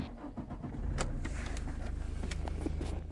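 A Toyota Innova's engine is started from inside the cabin, a brief crank followed by a steady, pulsing idle with a rhythmic low throb and light clicks, close and fairly loud, with no voices.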